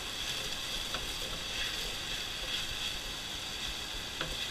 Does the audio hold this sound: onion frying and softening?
yes